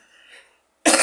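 A single loud, sharp cough from a person close to the microphone, coming abruptly after a moment of faint murmur and silence.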